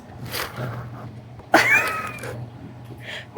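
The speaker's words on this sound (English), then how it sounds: "You silly kitty?" A pet cat gives a sharp, loud meow up close, with a softer vocal sound before it and another brief cry near the end, over a quiet room hum.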